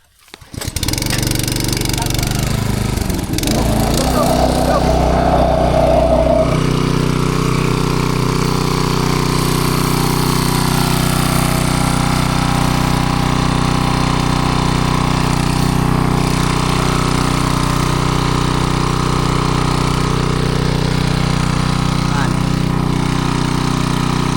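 On a jungle farm in Leyte, a small engine is cranked and catches, then runs loudly and steadily up close with a throbbing, chugging drone, while people talk over it.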